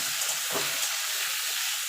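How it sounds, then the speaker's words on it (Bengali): Shrimp frying lightly in hot oil, a steady dense sizzle with no pauses, plus one brief louder spatter near the middle. "এবার চিংড়ি মাছগুলো হালকা করে ভেজে নেব"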